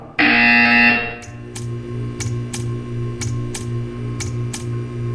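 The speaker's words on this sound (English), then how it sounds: "When you hear the buzzer, stare at the art." A loud, harsh electronic buzzer from the Portal 2 video game sounds alone for about a second, then a low electrical hum continues with a regular series of sharp clicks.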